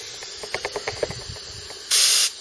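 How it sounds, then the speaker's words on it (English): A pressurised paint spray gun in a Mk3 Cortina restoration workshop releases a short, loud burst of fine-mist hissing, preceded by a few soft clicks and handling taps. "Nice, fine mist. Got the pressurised gun."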